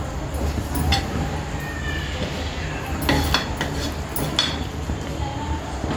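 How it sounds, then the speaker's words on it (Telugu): Bitter gourd pieces go into a simmering pot of pulusu, with metallic clinks and clatter of pot and utensils over a steady bubbling simmer. "ఈ కాకరకాయలు మనం ఇందులో వేసేసుకుందాం"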